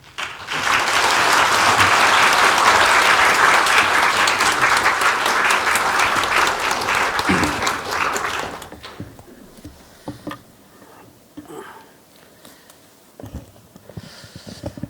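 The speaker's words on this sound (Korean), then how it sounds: "나오실 때 박수할까요?" A church congregation claps loudly as a visiting preacher comes forward at a Sunday service, dense applause lasting about eight seconds before fading into quiet room noise with scattered shuffles and knocks.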